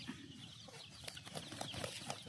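Chickens, among them eight- to nine-month-old roosters, cluck faintly in a series of short, scattered calls over low background noise.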